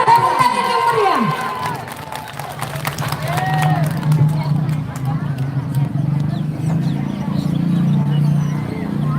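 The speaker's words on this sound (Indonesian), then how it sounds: "Tepuk tangan yang meriah." An outdoor crowd cheers and claps at a 2023 Minangkabau performing arts competition, with shouts and a few whistles over a dense, steady roar of voices.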